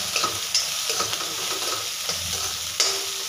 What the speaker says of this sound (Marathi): तर हे एकदम व्यवस्थित परतून घ्यायचं